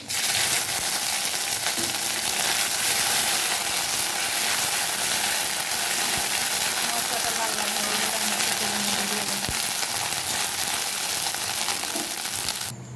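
Panch phoron spices and chopped ginger frying in hot oil for a vegetable khichuri, giving a steady, loud, continuous sizzle from start to finish, with a few faint clicks and no speech.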